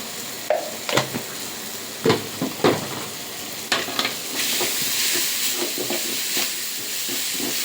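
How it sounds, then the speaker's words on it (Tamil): Onions sautéing with a small pinch of turmeric in a pan, steady sizzling hiss with repeated scraping stirs of a spoon, close and fairly loud, no talking. "இது நல்லா பச்சை வாசம் போகிற வரைக்கும் நல்லா வதக்கிடுங்க."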